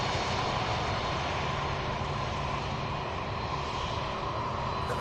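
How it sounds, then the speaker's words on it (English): A 53-year-old McDonnell Douglas DC-9 jet lines up on the runway at Louisville airport, a steady, broad engine roar held at an even level throughout. "a 53-year-old DC-9 lining up for 35 right"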